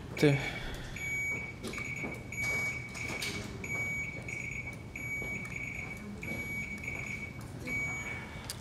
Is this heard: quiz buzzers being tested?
yes